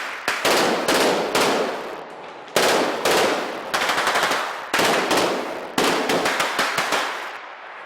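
Gunfire from a Max Payne video game scene: loud, close bursts of rapid shots in four clusters, each a quick run of sharp cracks fading into echo, with no talking.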